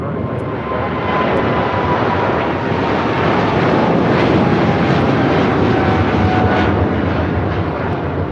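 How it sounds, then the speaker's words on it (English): A thirteen-year-old Nippon Cargo Airlines Boeing 747-8 freighter takes off at LAX, its engines a loud, close, continuous roar with a thin whine, building slightly and holding strong for several seconds, no talking. "This is Nippon Cargo Airlines 101 taking off to Tokyo Narita on a 13-year-old 747-8 freighter"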